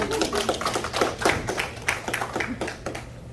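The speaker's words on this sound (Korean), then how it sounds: "박수로 환영해 주시면 감사하겠습니다" An audience at a Korean university forum lecture claps in welcome for arriving guests, a fairly quiet but brisk run of distinct hand claps from a modest crowd filling the few seconds.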